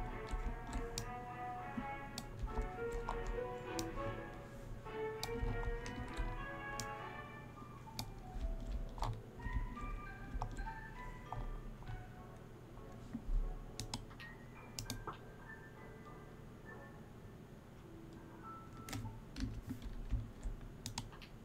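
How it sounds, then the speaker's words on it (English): A computer keyboard and mouse click steadily during video game play, with quick irregular key taps and clicks, fairly faint and close, over a soft game soundtrack with no talking. "This game better with keyboard and mouse."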